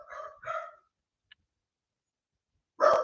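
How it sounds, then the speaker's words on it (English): Nearby dogs bark in short bursts: two quick barks at the start, a long silent gap, then another loud bark at the end. "The dogs are barking, sorry."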